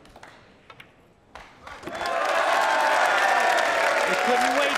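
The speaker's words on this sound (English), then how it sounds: "when this 9 goes down, listen for the applause" Audience applause breaking out at a professional pool match between snooker legends, rising from a quiet hall with a ball clack into loud sustained clapping, with a brief word spoken at the start.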